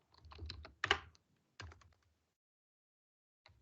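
A computer keyboard typed on while writing Python code to read a CSV file: bursts of rapid close keystrokes, a pause, then a final tap, with no talk.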